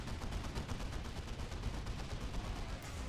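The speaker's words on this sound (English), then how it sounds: "You can hear like the rounds exploding" Heavy bolter rounds burst in rapid explosive succession in a Warhammer 40k arena battle game, a dense continuous rattle of gunfire and detonations filling the whole moment.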